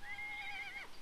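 A single horse neighs in ArcheAge, a bright, clear whinny lasting about a second that falls away at the end, close and alone.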